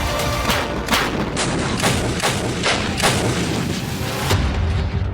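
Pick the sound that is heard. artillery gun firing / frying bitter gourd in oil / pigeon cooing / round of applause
artillery gun firing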